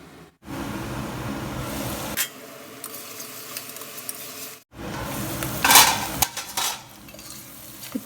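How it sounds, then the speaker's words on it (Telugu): Onions with turmeric fry in a pan for a goat-head curry, giving a close sizzle with spoon scraping and metal clinks against the pan in two bursts separated by a quieter stretch, and no voices. "ఆనియన్స్ని మంచి గోల్డ్ కలర్లోకి వచ్చే వరకు వేయించుకుందాము"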